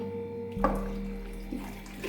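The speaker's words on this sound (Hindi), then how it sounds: "1 जग भर के हम इसमें पानी डाल देंगे" Water from a jug pours into a pot of goat trotters (mutton paya), a steady tap-like splashing stream that starts abruptly partway through and runs on close by.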